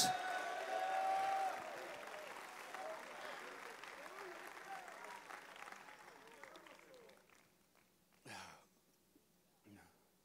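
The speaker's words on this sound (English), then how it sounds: "Would you clap your hands to the Lord and give God a shout of praise?" Men at a Texas men's church conference clap and call out in praise: a swell of applause thins over several seconds, then two separate loud shouts ring out near the end.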